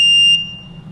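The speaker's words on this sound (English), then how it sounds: "Your door lock may beep a couple times," A single sharp, high electronic beep from a smart door lock that rings out clearly and then fades quickly.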